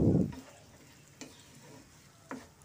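Potatoes stir-fry in a pan with a soft, steady sizzle, opening with a brief low thump and followed by two light scrapes of the spoon.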